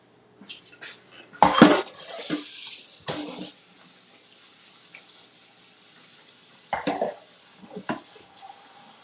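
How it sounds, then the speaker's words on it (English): Shirataki noodles are rinsed under a running tap in a kitchen sink, with a loud clatter of pots and utensils up front, a steady stream of water, then a few softer knocks and splashes later. "I'm gonna go ahead and rinse them well in the sink"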